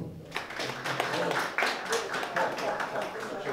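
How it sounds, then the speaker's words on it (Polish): An audience in a library lecture hall claps for a lecturer speaking on the Katyn massacre: dense, irregular applause builds after a brief quiet start and continues throughout, with voices underneath. "Bardzo proszę o brawa dla niego."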